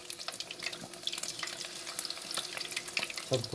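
Prawns coated in batter deep frying in a pan of oil, giving a continuous close bubbling crackle with scattered sharp pops, steady in level throughout and without any voices.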